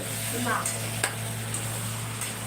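Food stirred and frying in a pan, a steady sizzle with a few soft scrapes and clinks, under a constant background hum and faint talk.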